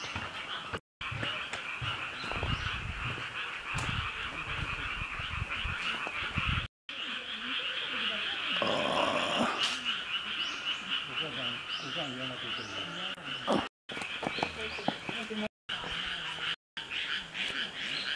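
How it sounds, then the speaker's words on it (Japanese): Frogs croak steadily from a warm southern forest of tabu trees and camellias in Japan, a continuous chorus with some bird calls and faint background sounds, no speech. "カエル。"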